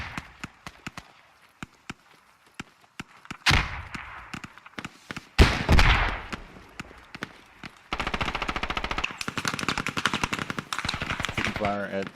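Gunfire in the Squad military shooter game: scattered single shots, then loud close bursts and a long rapid automatic stream, with radio-style voices talking over it.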